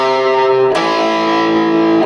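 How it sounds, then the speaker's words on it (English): A loud distorted electric guitar plays a rock and roll rhythm riff. One held note gives way to a sharp new strike and a slightly bent, sustained chord, and nobody speaks. "He bends it a little bit, but he stays closer to C."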